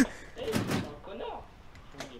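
A door slams shut in the survival horror game 7 Days to Die, a loud heavy thud near the start, followed by a quieter rattling sound as people talk over it.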